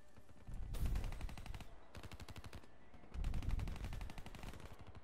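Rapid automatic gunfire from a video game shooter firing the HG40, loud bursts of repeated shots in two long volleys with a brief lull between.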